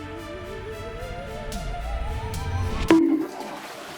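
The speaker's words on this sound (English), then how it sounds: "when he flushed the toilet" A toilet flushes in a hotel bathroom, a rising rush of water building for a few seconds before a sharp clunk, then the flow quickly dies away.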